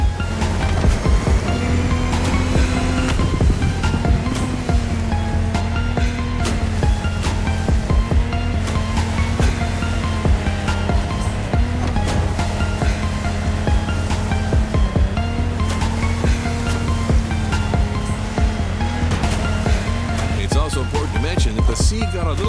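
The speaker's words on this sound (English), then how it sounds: "The sea got a little turbulent since the previous race." Turbulent sea waves rolling in The Crew Motorfest racing game, a steady loud wash of surf under a constant low engine-like drone and layered game sounds, continuous throughout.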